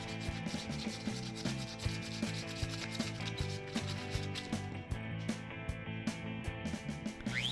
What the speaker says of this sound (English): I sanded down the burr that the hole saw made